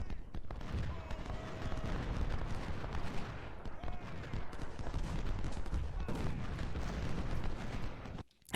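Musket volleys and cannon fire rumble in a Civil War battle at Chantilly in the strategy game Ultimate General: Civil War, with dense, continuous crackling gunfire and booming blasts under occasional faint talking.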